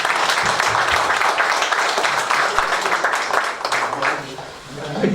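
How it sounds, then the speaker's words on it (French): A room full of members applauds at a pétanque club general meeting, steady close clapping running for several seconds and fading near the end, with voices audible under it. "J'ai dit bravo et on peut l'applaudir pour tout ce qu'il fait"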